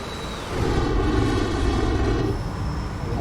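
A roaring F-14 jet engine in afterburner surges louder and holds at a steady, powerful rush with a thin high whine on top, during takeoff in the flight simulator DCS.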